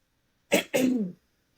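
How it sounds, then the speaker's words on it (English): A person clears their throat up close, two quick rough bursts in a row, then quiet. "I'm just going to clear my throat."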